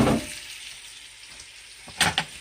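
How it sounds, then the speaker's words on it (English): Meat frying in bacon grease in a pan for an Irish stew, a steady soft sizzle with a louder crackling burst of spatter near the end. "gonna go ahead on and fry this in this bacon grease"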